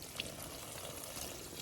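Fish emulsion mixed with water is dumped from a container onto garden soil around onion, potato and beet plantings, a steady splashing pour heard close and fairly quiet, with no voices.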